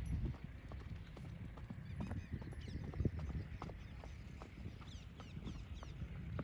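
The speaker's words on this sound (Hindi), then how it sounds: "पैरों पर गौर करना है कि पैर घोड़ा किस पोजिशन में ला रहा है।" A mare being trained at a walk toward a single-foot gait with a simple bit makes steady hoofbeats, a regular clopping rhythm at moderate distance over outdoor background noise, faint geese-like honks mixed in.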